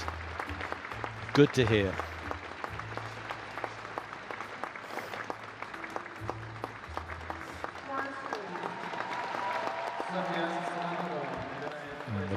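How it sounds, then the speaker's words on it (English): An arena crowd at a ladies' free skating competition gives steady, moderate applause that swells toward the end, with commentators talking over it throughout. "Sympathetic round of applause."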